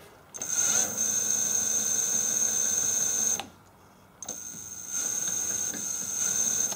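Electric power steering pump in a DIY electric vehicle, driven by an old alternator used as a motor: a steady high whine with a constant tone, running close, cutting out briefly then resuming.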